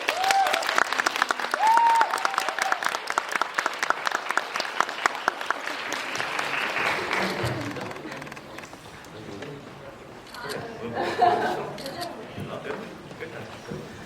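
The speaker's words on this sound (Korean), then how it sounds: "장건재 감독님, 고화성 배우님, 김우겸 배우님, 주정욱 배우님 큰 박수 맞아주세요" Audience applause welcoming the director and actors on stage at a film Q&A event for the Korean movie, a dense crowd clapping that swells early and then tapers, with speech heard in the background.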